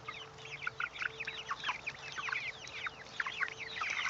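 Chickens, including a white rooster, clucking in a busy outdoor flock, with many overlapping quick chirping clucks over a low steady hum, fairly quiet and continuous.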